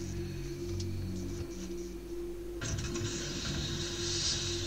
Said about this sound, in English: But no, it's just the wind.